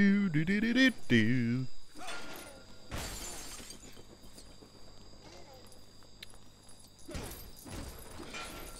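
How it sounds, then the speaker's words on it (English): A brief sung voice opens, then objects smash apart in LEGO Jurassic World with two sharp, crashing bursts of breaking pieces, separated by quieter clattering and light pattering sounds. "I don't know why I'm still smashing stuff."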